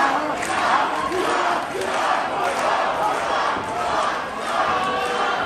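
A wrestling arena crowd shouting and cheering for Kaun in his match against Clay Jacobs, a sustained, swelling mass of voices with no clear pauses.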